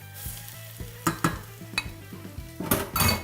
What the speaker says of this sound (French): Et là, on va nacrer le riz.